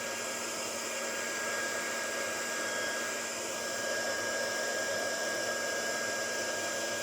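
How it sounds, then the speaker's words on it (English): A heat gun blowing hot air over wet embossing powder on an ink tag, a steady loud whooshing roar running unbroken throughout, close and alone. "So I'm going to put the heat gun on and give this a blast of the heat so that it dries."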